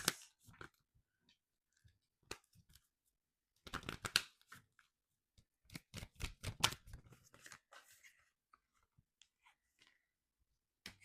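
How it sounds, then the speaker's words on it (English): Tarot cards are shuffled and drawn at close range, making quiet bursts of riffling, flicking and slapping paper with short pauses between them. "Let's get a few more cards, see if there's anything else."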